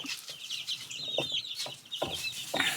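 Young chicks clucking and peeping in a brooder, several overlapping high calls in quick irregular bursts, close by and without any talking.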